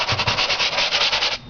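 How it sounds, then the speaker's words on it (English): A Tim Holtz Ideology sander with very fine sandpaper lightly rubs across a surface in a steady, close, rhythmic scratching for about a second and a half before stopping abruptly. "I have a Tim Holtz Ideology sander with some very fine sandpaper"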